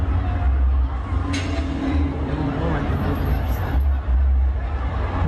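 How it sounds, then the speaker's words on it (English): Crowd fleeing in panic after a shooting at the Salsa on St. Clair festival: a dense, steady roar of hubbub and babble with low rumble, voices blending into a continuous mass of noise. "This is a video of the crowd running."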